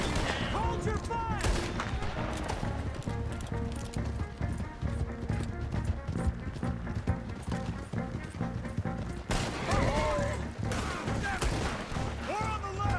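Gunfire in the video game Red Dead Redemption 2 during a horseback fight, with sharp repeated shots over galloping hooves and clip-clop, with game voices shouting in between.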